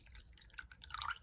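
Water poured into a cup of thick acrylic paint to thin it for fluid painting on tiles: faint, soft trickling and dripping that builds slightly toward the end, close and quiet, with no one talking.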